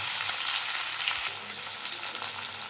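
Fried vegetables and tomato hit hot oil in a wok for cabbage chilli, giving a steady, loud, close sizzle that fills the whole moment with no voices.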